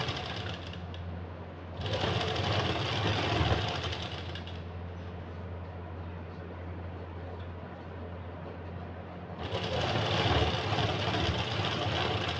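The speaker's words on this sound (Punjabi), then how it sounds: "ਇਸ ਤਰ੍ਹਾਂ ਆਪਾਂ ਨਾਲ ਨਾਲ ਦੀ ਸਲਾਈ ਲਾ ਲੈਣੀ ਹੈ" A sewing machine stitches lace onto a printed suit in a long, steady mechanical run with a rhythmic rattle, close and prominent, surging slightly near the start and end.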